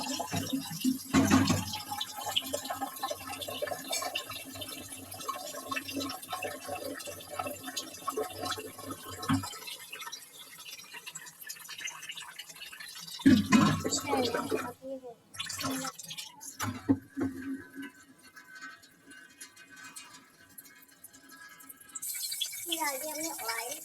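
Water poured over washed ingredients set to soak in a home kitchen, splashing and trickling in bursts with pauses between, while a voice talks at times.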